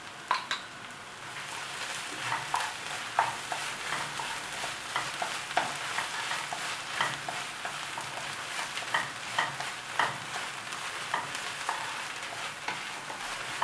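Tomato paste cooking with onions in a little oil in a pan for Romanian sarma, giving a soft steady sizzle broken by frequent stirring scrapes and taps, faint and continuous with no voices.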